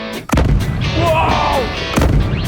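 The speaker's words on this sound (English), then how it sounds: "Will this TV blow up with 4 pounds of explosives under it?" A TV blown up by 4 pounds of explosives: a sudden loud blast followed by a sustained roaring rumble and crackle lasting about two seconds, with a second burst near the end.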